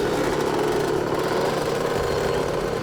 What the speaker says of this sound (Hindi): अभी अभी एक पीली बाइक में और उसके पीछे पीछे एक रेड बाइक में एक आदमी निकला है